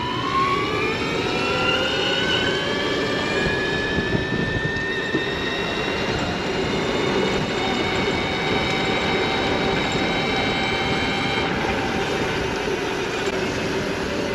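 A powerful motorbike accelerates on the way to a skate park. The engine drone climbs steadily in pitch over rushing wind, loud and sustained throughout.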